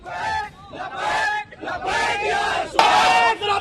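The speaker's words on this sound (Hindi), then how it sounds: "नागपुर में पुलिस स्टेशन के बाहर जो भीड़ जुटी थी वो कैसे औरंगजेब जिंदाबाद के नारे लगा रही है" A crowd gathered outside a police station in Nagpur shouts slogans in loud, rhythmic bursts, several rising and falling waves of many voices with brief gaps between them.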